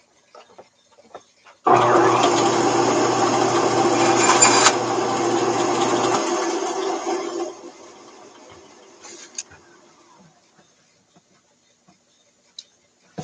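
A power saw cuts a length of replacement wood in half for the corners of a Bohemian cello, running loud and steady for several seconds before winding down and fading, with a few light ticks and taps afterward.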